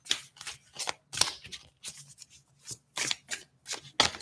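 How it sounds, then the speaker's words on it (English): Rapid riffling and snapping of a deck of cards being shuffled, bursts of crisp flutters repeating close by with no talking. "I'm just going to do 2 more shuffles."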